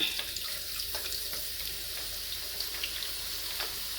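Boondi batter hits hot oil and fries with a steady, close hiss and crackle, small pops scattered through it and no voices.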